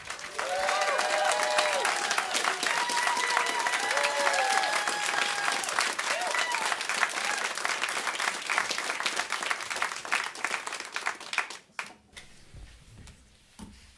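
An audience in a small live radio studio applauds a band with a long, steady wash of clapping and a few voices calling out. It holds for about twelve seconds, then drops to quiet.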